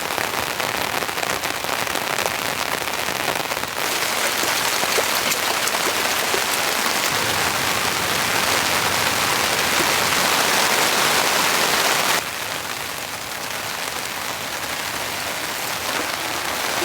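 Heavy rain drums steadily on a winter campsite during a snowy storm, a dense, constant hiss of drops hitting surfaces with no pauses, easing slightly toward the end.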